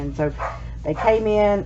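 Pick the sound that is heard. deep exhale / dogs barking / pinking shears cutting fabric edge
dogs barking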